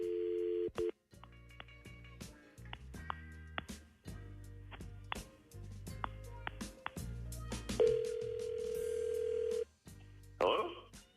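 Telephone tones while placing a call to a cell phone: a string of short beeps and tones in an uneven rhythm, then a sustained ringback tone, heard clearly and alone apart from brief bursts of talk.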